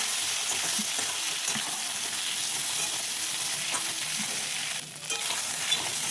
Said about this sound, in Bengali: বেগুনটাকে একটু এর সাথে ভেজে নেব